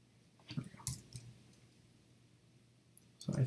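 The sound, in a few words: clicking of a worn computer keyboard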